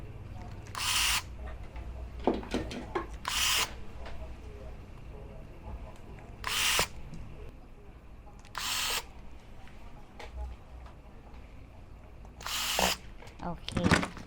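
Small screws being driven into a cracked-screen Samsung Galaxy M30S phone during a screen replacement, heard as short sharp bursts of a small electric screwdriver spaced through the clip over a low background hum.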